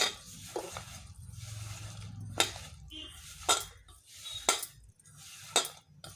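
Egg pakoda batter being mixed with masala powder in a bowl, a spoon clinking and scraping against the dish in several sharp knocks over a low steady stirring rustle, close and fairly quiet.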